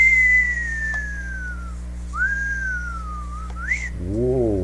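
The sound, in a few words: person whistling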